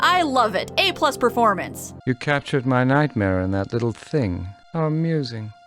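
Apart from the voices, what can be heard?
No everyday noise stands out behind the speech.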